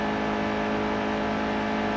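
A NASCAR race car in NASCAR Heat 2 accelerates on track, its engine holding a loud, steady high-pitched whine that stays constant and close throughout, with no voices over it.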